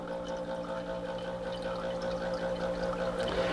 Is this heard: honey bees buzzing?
no